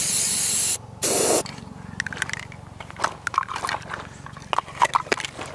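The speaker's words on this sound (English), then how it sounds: "Let's spray paint it real quick and let's see how we can fix it up." Short bursts of an aerosol spray can painting a steel shooting target, two loud hissing sprays up close, followed by scraping and tapping handling noises.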